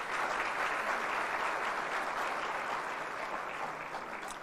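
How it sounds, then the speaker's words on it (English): Sustained audience applause at a Kenyan political event, a dense steady wash of many hands clapping throughout, easing slightly toward the end. "We truly applaud him."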